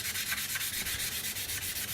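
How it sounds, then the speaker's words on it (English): A forged blade being hand-sanded with 220 grit sandpaper, rhythmic back-and-forth rasping strokes at a steady pace, close and fairly quiet, with no talk. "I've been sanding on this for probably 45 minutes with just 220"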